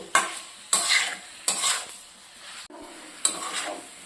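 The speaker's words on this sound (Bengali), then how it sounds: "গ্যাসের ফ্লেমটা মিডিয়াম করে রেখে আমি ভালো করে কষিয়ে তারপর ঝোলটা দেব" Fish curry masala with fried raw banana and potato pieces is stirred in a pan over a medium gas flame, several distinct scraping strokes over a steady close sizzle, with no voices.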